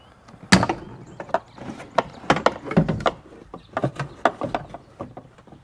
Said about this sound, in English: we've just slid the door panel, the inner door panel, enough to release the top pivots here